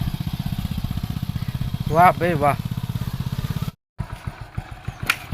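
Motorcycle engine ridden by a learner, close and chugging with a steady rapid pulse, a short rev in the middle, then a brief cutout before the throbbing resumes; voices speak briefly over it.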